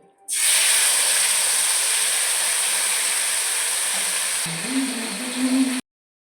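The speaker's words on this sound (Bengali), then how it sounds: "এখন মাংসটা কষানো হবে" Meat frying in a pot for biryani, a loud steady sizzling hiss that starts abruptly, with a low tonal hum joining near the end before it cuts off.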